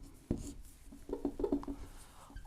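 Chalk or marker scratching across a board during a chemistry lesson, a series of short, close strokes and taps in uneven rhythm with a sharp stroke near the start.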